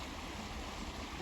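Half-frozen river water flows on a cold day at first snow in Austria, a faint, steady rushing murmur with no voices.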